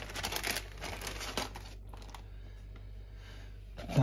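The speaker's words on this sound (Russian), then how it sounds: "я в этот зип-пакетик все и буду складывать." Items are packed into a zip-lock plastic bag during nano aquarium maintenance, giving close, soft crinkling and rustling of plastic in short bursts over a low steady hum.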